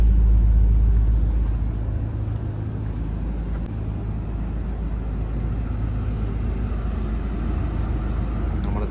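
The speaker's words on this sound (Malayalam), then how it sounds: "ആ ഒരു ബാക്ക് എഞ്ചിൻ്റെ ആ ഒരു സൗണ്ട് കേട്ടോ" Loud, steady low rumble of the rear engine of a KSRTC Swift Volvo sleeper bus idling close by, droning without pause, with faint talk in the background.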